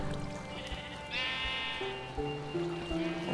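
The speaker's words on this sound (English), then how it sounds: "How'd you get down here, sheep? Cave sheep." Sheep in the Minecraft video game bleating in a cave, a couple of short, wavering baa calls at moderate volume over quiet game sounds, with no speech.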